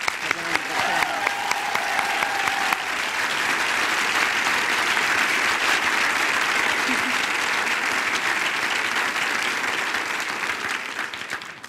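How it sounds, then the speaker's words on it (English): An audience at a Department of Health and Human Services event breaks into loud, sustained applause, a few sharp claps first, then a dense, even roar of clapping that holds steady and eases off near the end. "Let's give her a round of applause."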